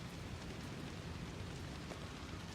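Steady rain falling everywhere in the Disney Dreamlight Valley video game, a dense, even hiss with low rumble running unbroken and alone, no voices.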